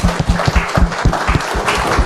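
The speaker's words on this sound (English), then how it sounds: "So let's give them an applause." Conference audience at nullcon Goa applauding the event organizers, dense loud clapping from many hands filling the hall throughout, with rhythmic near claps standing out.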